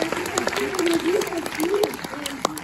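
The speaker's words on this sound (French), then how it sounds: "Donc vous pouvez beaucoup l'applaudir." Cinema audience at a film screening in Montreuil clapping for a guest, individual claps popping irregularly and fairly close while a voice speaks over the applause.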